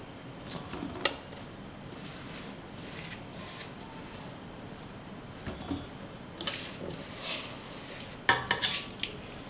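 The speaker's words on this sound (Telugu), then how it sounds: "ఇప్పుడు నేను మిగతా ముక్కలు కూడా ఇందులో వేసి కలిపేసుకుంటాను." Mango pieces being tossed with spice mix in a bowl for avakaya pickle, giving intermittent metallic clinks and scrapes of a spoon against the bowl, soft and close, alone with no talk.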